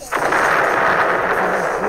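A loud, dense blast roars up suddenly and sustains as a broad crackling rumble for nearly two seconds, heard close and alone.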